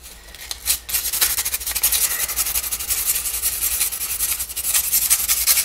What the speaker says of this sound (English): Now I'm going to sand that to get rid of the excess.